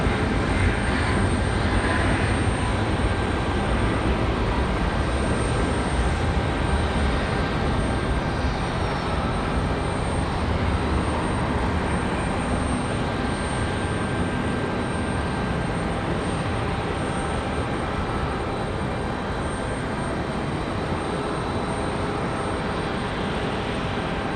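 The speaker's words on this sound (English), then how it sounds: "This is our JetBlue A220." A JetBlue Airbus A220 roars steadily at Raleigh Durham International airport, a loud continuous jet engine wash with a faint high whine holding for the whole stretch, no voices over it.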